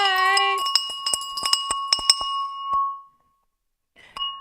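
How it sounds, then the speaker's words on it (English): A market-opening bell rings with a sustained metallic ding, followed by a quick series of sharp repeated strikes that ring on bright and clear, then fade to silence before one last brief ring. "that bell that will soon be sponsored, hopefully, by the London Stock Exchange or Greg's or anyone really"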